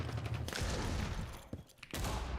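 A grenade goes off in a first-person shooter: a dense, rumbling burst of blasts and crackle that drops away sharply near the end before loud noise returns.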